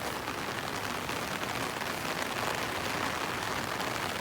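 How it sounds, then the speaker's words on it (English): Steady patter of rain drumming on an umbrella overhead, a dense, even hiss with no voices, continuous throughout. "here comes some more rain"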